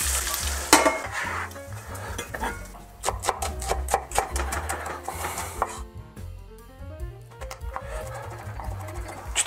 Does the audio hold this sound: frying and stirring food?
yes